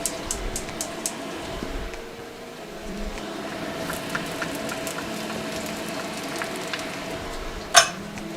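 Ginger, garlic and green onion whites frying in hot oil make a soft, steady sizzle with faint clinks and one sharp utensil tap near the end, all close and without talking.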